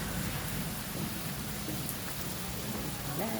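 Steady rain patters and hisses across a surface for the whole stretch, a dense even wash of drops with a faint low rumble underneath and no voices.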